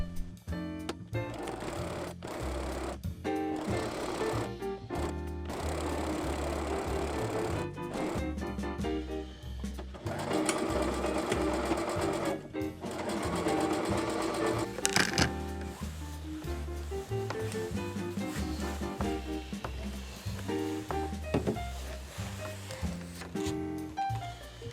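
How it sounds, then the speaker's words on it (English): A sewing machine runs in steady bursts as it stitches the front and back pieces of a simple shirt together, the motor's whir starting and stopping repeatedly and close by, with no talking. "I started sewing together the front pieces and the back pieces"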